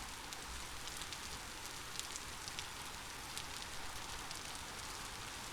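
Steady rain patters over a survival-crafting game world, a dense, even hiss of drops with occasional brighter ticks, continuous and fairly soft with no voices.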